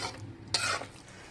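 Beef being stirred into a thick masala for Kerala beef pickle, a short wet scraping and squelching of spoon against pan, close and moderately loud, with no talking.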